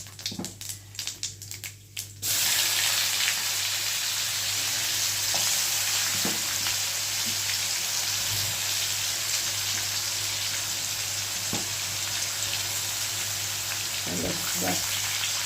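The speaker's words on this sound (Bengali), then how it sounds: "মশলাটা কষিয়ে নিই ভালো করে" Spice paste with cumin and bay leaf hitting hot oil in a wok, a sudden loud sizzle after a few seconds of clattering, then a steady close hiss with occasional pops and stirring taps.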